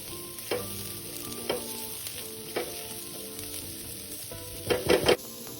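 Sliced onions being stir-fried in a wok with a little water, a steady sizzle broken by several sharp spatula scrapes and clanks, with a louder cluster of strokes near the end; no one speaks.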